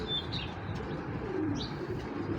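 Foreign pigeon chicks coo steadily and close by, soft repeated calls with a couple of brief higher chirps over a constant low background rumble.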